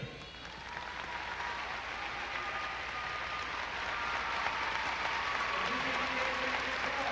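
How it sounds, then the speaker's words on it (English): Spectators at a women's all-around gymnastics final of the 2002 Commonwealth Games applaud for gymnast Rebecca Owen, a broad, steady crowd clapping that swells slightly and continues under faint arena sounds and a few murmuring voices. "Equal applause for Rebecca Owen."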